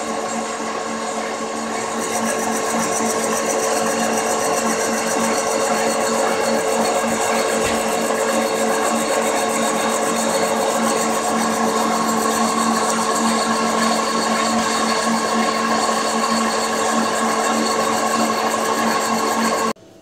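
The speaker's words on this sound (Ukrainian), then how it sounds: "Проточуємо заготовку до діаметра 29 мм." A woodworking lathe turns a wooden blank down to a 29 mm diameter, giving a steady, loud whirring and rubbing roar that runs unbroken for about twenty seconds before stopping abruptly.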